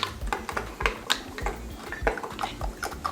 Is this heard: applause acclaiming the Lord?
no